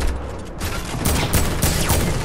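Video game gunfire in a multiplayer shooter match, a quick fusillade of sharp cracks and bursts at close range, loud and dense with no talk.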